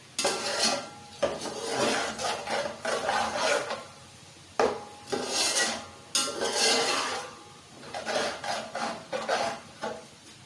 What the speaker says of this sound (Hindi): इन सब चीजों को अच्छी तरह मिक्स कर लेते हैं और मसाले को अच्छी तरह भून लेते हैं